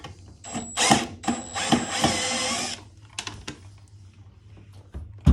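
A screw is backed out of a concealed window sash balance to release its cable tension, giving close, loud ratcheting and grinding bursts that fade into a few lighter clicks and a final knock.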